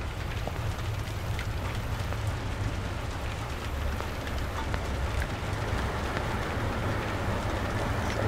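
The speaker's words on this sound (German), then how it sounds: "Wenn ich aus dem Fenster näher gehe, geht das los mit dem Regen." Rain falls in the video game Damned Hours, a dense, even hiss of drops on a surface that holds steady and moderately loud throughout, with no voices.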